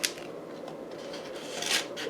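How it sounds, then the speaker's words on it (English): A metal spoon slicing through cooked corned beef, with a close, steady scraping and rubbing texture and a few sharper scrapes near the end, no talking. "Cut that thing with the spoon."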